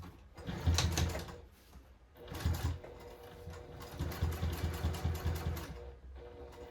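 A sewing machine top stitching a tote bag, running in three bursts of rapid mechanical whirring and thumping separated by short pauses, close and fairly loud, with no voices.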